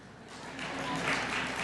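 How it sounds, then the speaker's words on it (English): Brief audience applause at a Tri-Citian of the Year award event, a dense wash of clapping that swells over under two seconds with a possible murmur of voices beneath. "Okay, you can clap for Debbie."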